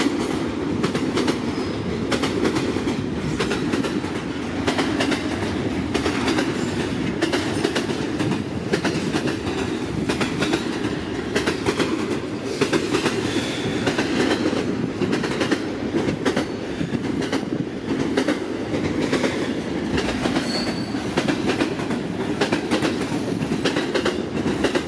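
A freight train hauled by an NR-class locomotive rolls past nearby with a continuous heavy rumble. Its wheels clatter rhythmically over the rail joints for the whole stretch, with faint squeals and no voices.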